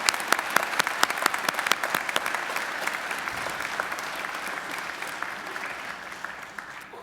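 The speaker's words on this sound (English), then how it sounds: "please join me in giving them a round of applause" Audience at a Macquarie University graduation ceremony applauding the graduates, steady crisp clapping from a large hall crowd that slowly thins and softens over about seven seconds.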